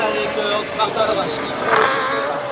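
A Renault Clio R3 rallycross car races at night, its engine note rising and falling loudly close by while a commentator talks over it.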